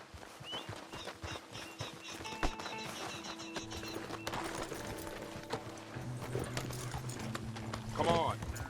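Horses galloping in Red Dead Redemption 2, a steady rhythmic clip-clop of hooves running throughout with a whinny near the end, set under ongoing character dialogue and music.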